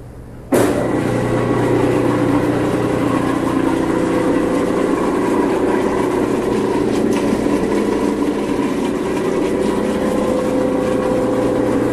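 A Viking positive displacement pump, model KK224A, rigged with added sanitary fittings, pipes and valves, starts abruptly and then runs as a loud, steady mechanical drone with a constant hum, with no voices over it.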